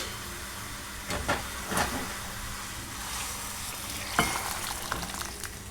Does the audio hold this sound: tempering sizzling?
yes